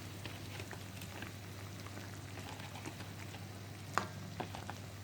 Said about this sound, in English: you can see that my crab curry is boiling, so it's the time to add in my crab pieces